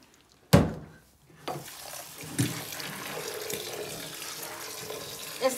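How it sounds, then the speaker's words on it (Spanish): Raw corn for pozole being washed under a running kitchen tap, opening with a loud splash burst, then a steady close rush of water with scattered sloshes and a small splash at the end, no talking. "vamos a lavar el maíz"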